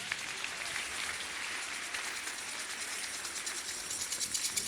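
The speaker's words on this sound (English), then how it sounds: "Clap for Jesus." A congregation at a women's church convention claps for Jesus, a dense, steady wash of many hands at moderate distance, fairly faint and continuous, growing slightly stronger toward the end.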